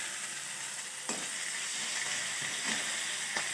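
Cumin and ginger paste frying in a pan gives a steady, close sizzle, with a few soft scrapes as it is stirred. No voices are heard.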